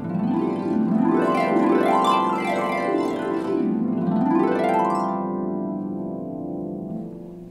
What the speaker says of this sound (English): the first technique that's super fun to play on the harp are glissandos